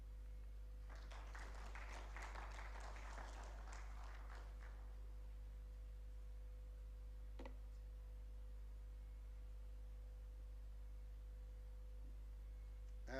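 Audience applause for a speaker at a national healthcare quality improvement conference, a burst of clapping lasting about four seconds, fairly faint, then fading into a steady low room hum with an isolated tap.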